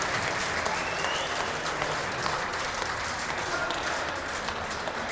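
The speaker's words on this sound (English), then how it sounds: "the crowd here at the Multnomah Athletic Club giving a round of applause to ALLAN Garner and Dave Chapman" Spectators at a four-wall handball world championship quarterfinal at the Multnomah Athletic Club give a sustained round of applause, a dense even wash of clapping that holds steady throughout.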